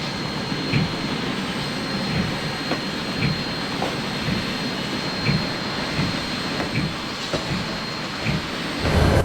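A steady mechanical rumble with rhythmic chuffing pulses, like a steam locomotive huffing along at a moderate distance, no voices.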